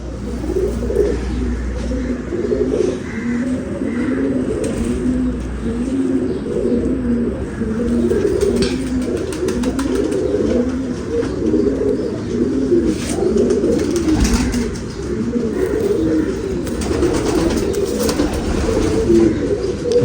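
Racing pigeons coo in a steady, overlapping chorus of low rhythmic calls close by. Faint chirps and light background noise run underneath throughout.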